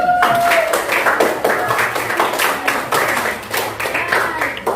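Students in a classroom lesson clap their hands together in a loose, rhythmic burst of separate claps, fairly close and lively, continuing throughout with a little background chatter.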